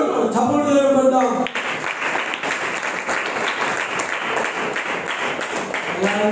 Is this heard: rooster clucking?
no